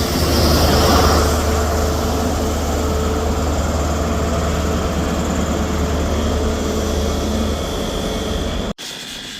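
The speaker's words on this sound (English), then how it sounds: "departing out now is the 11:19 Scotrail service from Aberdeen to Edinburgh Waverley" A ScotRail train on the Aberdeen to Edinburgh Waverley service pulls out of Edinburgh Haymarket station with a loud, steady engine rumble and wheel roar, close by and slowly fading.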